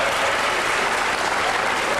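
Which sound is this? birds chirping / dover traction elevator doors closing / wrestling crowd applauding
wrestling crowd applauding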